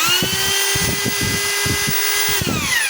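A Stanley SDH600 half-inch hammer drill running when pressed, a loud continuous motor whine with a rapid rattling hammer pulse underneath, then the pitch drops as it slows near the end.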